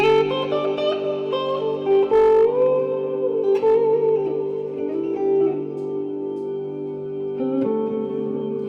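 A guitar reverb freeze effect from a Kemper Profiler holds a sustained chord as a steady shimmering wash, with a few soft picked notes layered over it at moderate volume.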